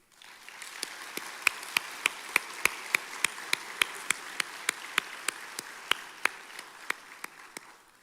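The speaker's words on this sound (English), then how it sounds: "You all deserve a round of applause." Applause for nursing students at a college pinning ceremony, a soft continuous wash of crowd clapping with one nearby person's loud, evenly spaced claps cutting sharply through it.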